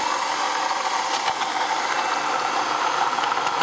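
A 2004 Ford Taurus engine idles close up with a constant, loud mechanical drone, a harsh rattling grind running through it without a break.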